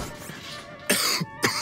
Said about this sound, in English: He's coughing up a storm.